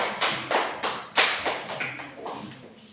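Scattered hand claps from a small classroom group come in a loose, uneven series of about eight sharp taps, fairly faint and fading toward the end, with no talking over them.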